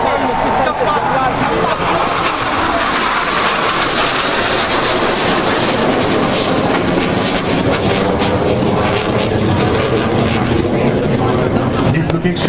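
Indian Air Force Jaguar military jets fly past in a three-aircraft formation at an Air Force Day display, a loud continuous roaring rumble that fills the whole stretch, with an announcer speaking over it.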